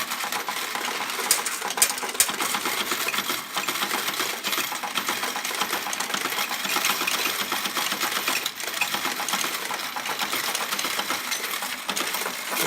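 An S&T OEM CCM-Sx coin module runs continuously with a dense, busy mechanical clatter and rattle, steady and fairly loud throughout with a few sharper clicks, and no talking.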